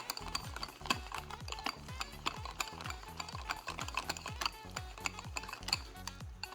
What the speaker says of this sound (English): So you mix it like a cake so you can have this texture.